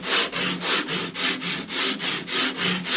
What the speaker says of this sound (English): what that sandpaper does is it evens out, levels out all of the high spots